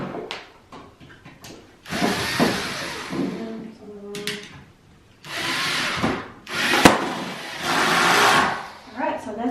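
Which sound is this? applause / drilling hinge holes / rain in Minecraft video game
drilling hinge holes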